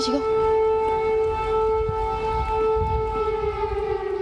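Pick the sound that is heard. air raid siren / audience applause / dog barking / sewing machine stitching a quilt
air raid siren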